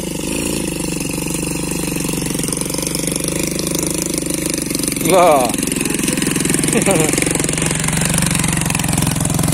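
Modified motorcycles built for rough plantation tracks running nearby, a continuous mid-pitched engine drone with small rises in revs, heard steadily throughout while someone speaks over it.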